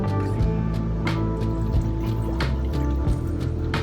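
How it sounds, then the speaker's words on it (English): Water pours into a bowl aboard a trawler, a continuous gurgling trickle with sloshing and dripping splashes, close and steady throughout, with low background hum beneath. "Okay, so pour that water into here, can you?"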